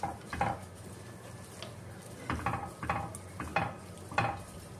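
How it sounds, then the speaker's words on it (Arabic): Sugar and fava beans being stirred in a pan, a few soft scraping strokes in irregular bursts against a quiet background, close and moderately faint. "حرك في السكر بتاعه."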